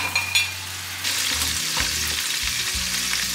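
Crab tossed into a hot pan with shrimp shells sizzles loudly and steadily, with louder bursts as the pieces land and are stirred, close up and alone.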